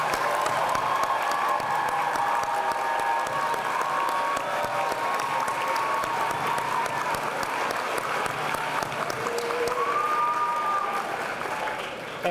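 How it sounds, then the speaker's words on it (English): Sustained applause from a large crowd honoring school staff at a dedication event, steady dense clapping with a faint voice or whistle tone rising over it near the end, holding loud for the whole stretch. "Join me in a round of applause for our amazing Phoenix staff."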